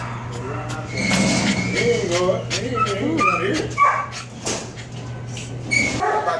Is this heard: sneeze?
no